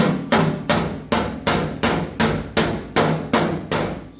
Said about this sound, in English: Grab your little body hammer and tap that down.